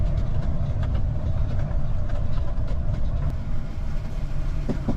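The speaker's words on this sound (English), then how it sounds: "The noise. The constant rattling." Steady, constant rattling and rumbling from inside a moving Ford F53 motorhome's cab, with dense road noise and a continuous clattering texture throughout.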